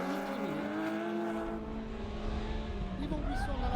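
Race cars drifting on the Val de Vienne circuit in the Uniroyal French Championship, engine whine sweeping in pitch with distant tyre noise, under steady commentary.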